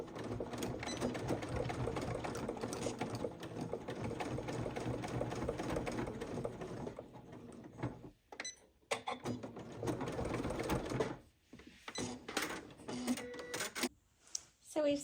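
A sewing machine runs steadily while stitching a skirt button band, a continuous fast mechanical whir that stops and starts in short bursts near the end, up close with faint handling sounds.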